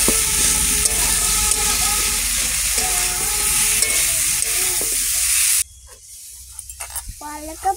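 Vegetables for a fish curry with pumpkin, potato and greens sautéing in a pan, a loud steady sizzle with stirring scrapes, which then drops away abruptly to quieter scattered clinks and bubbling.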